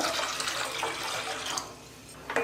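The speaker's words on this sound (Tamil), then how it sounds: "காய் வேகிறதுக்கு மட்டும் கொஞ்சமாக தண்ணி ஊற்றிக்கலாம்." Steady rushing splash of water pouring into a cooking pot of vegetables, fairly close and continuous, easing off toward the end with a brief clink.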